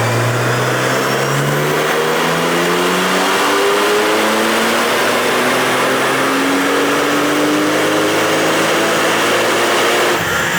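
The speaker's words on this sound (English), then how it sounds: "Here's a factory dyno run on a stock 992 Turbo S with 91 octane in the tank." A stock Porsche 992 Turbo S running on 91 octane during a factory dyno pull, its engine rising steadily in pitch through one long, loud, close acceleration before cutting off near the end.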